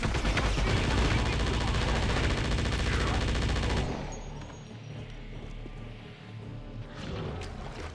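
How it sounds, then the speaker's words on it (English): Loud automatic gunfire in the video game Wolfenstein for about four seconds, then it stops abruptly, leaving quieter background game sound. "There's some people shooting at me!"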